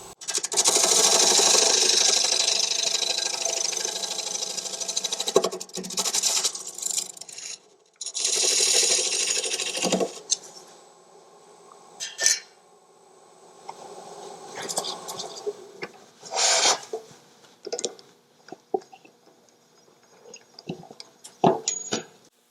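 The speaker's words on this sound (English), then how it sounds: "I'll now just go in with a very small bowl gouge." A small bowl gouge cuts a dried, rough-turned wooden bowl spinning on a lathe, giving long loud rasping scrapes that break off into shorter, quieter bursts of cutting and rubbing.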